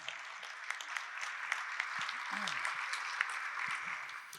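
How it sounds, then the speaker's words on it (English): Applause from the audience at a Blackfoot language conference, a steady crowd clapping that lasts several seconds with scattered sharper claps standing out. "Another round of applause."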